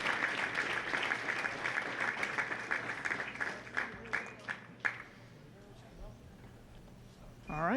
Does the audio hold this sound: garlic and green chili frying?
no